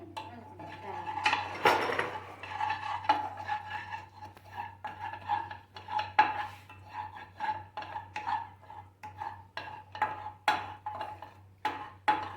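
Sautéed vegetables go into a pan for lasagna, giving a steady run of metallic clinks and scrapes as a spoon stirs, close and moderately loud over a low hum.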